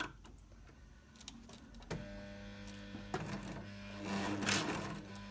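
An overlock serger sews a very long stitch, a steady mechanical whirring hum with a fast rhythmic needle clatter that picks up and strengthens partway through, heard close with no talking.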